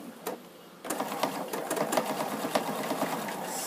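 A Husqvarna Sapphire sewing machine fitted with Farrell's Mini Foot stitches steadily after a brief pause, a close, even mechanical whirr with a fast rhythmic pulse that runs on to the end.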